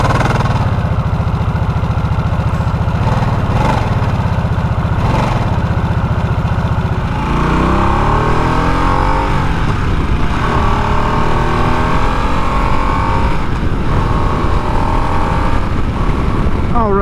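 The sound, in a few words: motorcycle engine starting and running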